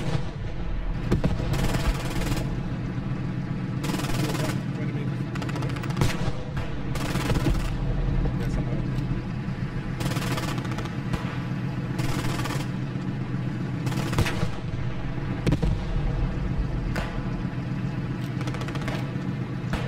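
Repeated heavy cannon blasts from a tank lobbing HE rounds in a WWII video game battle near Bayeux, with a Sherman involved, booming at irregular intervals over a constant low engine rumble.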